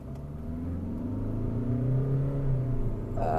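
A Hyundai Alcazar SUV accelerates hard from a standstill in a 0 to 100 run, engine droning loudly from inside the cabin and climbing steadily in pitch, with no one talking.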